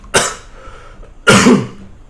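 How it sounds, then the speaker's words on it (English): Two harsh coughs, a short one near the start and a longer, heavier one about a second later, with quiet room noise between. "My cough is not getting any better."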